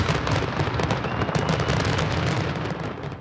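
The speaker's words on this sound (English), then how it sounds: "the fireworks are already flying" Fireworks bursting on the eve of Independence Day, a dense continuous crackle of rapid pops and bangs, loud and unbroken with no talk.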